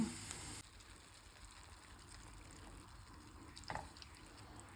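Milk is poured into a pan of half-fried, half-cooked carrots for carrot halwa, giving a faint, steady liquid wash with a soft splash near the end.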